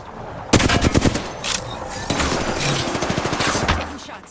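Close automatic gunfire in the battle royale shooter Apex Legends, a loud burst of rapid shots followed by steady firing and game effects, with no talk over it.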